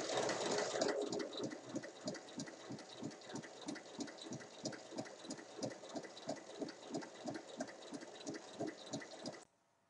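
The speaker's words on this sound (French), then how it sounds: "Et on pique tout le tour." A sewing machine stitches around the hem of a fabric basket with a drawstring-pouch closure, running in a fast, even pulse for about nine seconds before stopping, close and clear with no talking.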